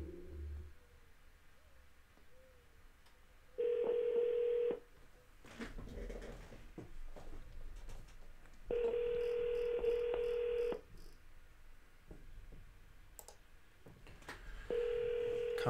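Telephone ringback tone on an outgoing call, three steady rings separated by pauses, with faint background sounds and scattered noises between them.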